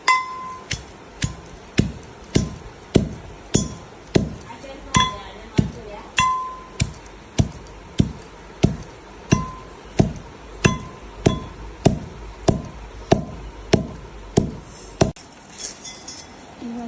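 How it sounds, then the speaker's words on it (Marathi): Fried dried Bombay duck fish is pounded for chutney, a steady series of sharp, loud thuds at about one-second intervals, each with a brief clink, while someone speaks in the background. "बोंबील असे भाजून घेतले तेलात आता चेचून घेऊ"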